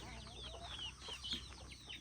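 A crowd of broiler chicks peeps continuously in high, overlapping cheeps, close and busy, with a steady low hum underneath.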